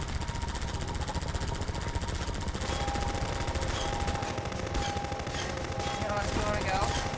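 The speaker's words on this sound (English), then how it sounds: "I can shoot this thing down." Gunfire in the video game Half-Life 2 shooting at an enemy, dense rapid bursts of shots over continuous game noise and a steady tone, loud and sustained.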